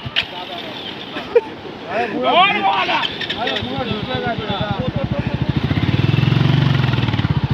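Motorcycle engine revving and idling on a sea beach group ride at Bagda, with an irregular putter that builds into a steady, loud rumble near the end while people talk over it.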